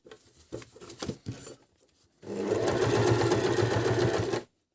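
A Janome Q33 sewing machine runs a straight stitch at maximum stitch length 4 with the needle centered. A few handling clicks and knocks come first, then a loud, steady motor whir lasts about two seconds before stopping abruptly.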